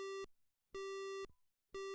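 A phone busy signal sounds in the Ace Attorney: Justice for All video game. It gives three clean, evenly spaced electronic beeps with short silent gaps between them.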